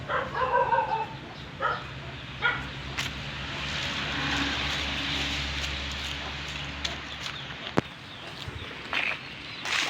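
Hens cluck and chatter nearby with occasional higher peeps from chicks, against a steady low rumble in the background and a sharp knock partway through.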